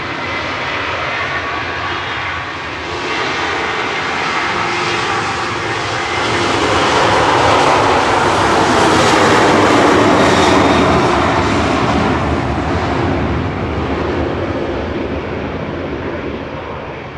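Ryanair jet airliner at Manchester Airport, a loud broadband engine roar that swells to a peak mid-pass and then eases slightly, heard alone without talk.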